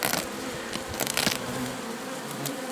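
Bees buzz steadily around a two-level hive, a dense close drone with individual insects flying past, no voices.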